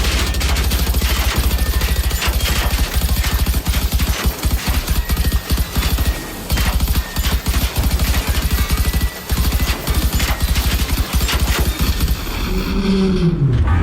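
Sustained, loud gunfire from the video game Generation Zero, rapid automatic bursts hammering almost nonstop for the whole stretch, with brief gaps and a mechanical sweep at the end.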